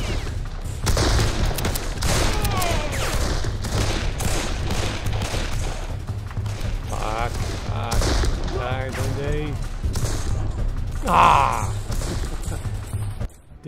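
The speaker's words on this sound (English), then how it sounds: "Sniper fire!" Battle sounds at Burnside's Bridge during the Battle of Antietam, with steady crackling rifle fire and booms layered throughout, loud and continuous, with voices shouting over the din.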